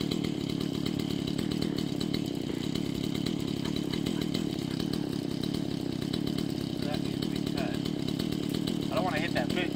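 A chainsaw cutting through brush along a wire fence line, its engine droning steadily and loudly throughout with rising revs near the end, voices faintly talking underneath.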